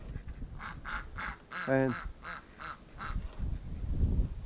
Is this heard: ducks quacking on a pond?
yes